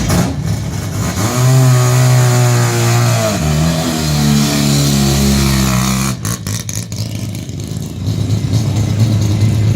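A rally car from the 2018 New Zealand rally season passes with a loud engine rev that climbs, holds and falls as it goes by, then the roar fades into a rougher, receding drone.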